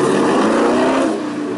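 A car engine revs loudly and continuously at close range, a harsh sustained roar that holds steady and then eases off slightly toward the end, with no one talking.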